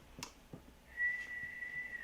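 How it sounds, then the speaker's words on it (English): An older man whistles alone after a few soft breathy attempts, producing a faint, thin sustained tone that wavers and dips slightly over about a second. "Let me see if I can whistle."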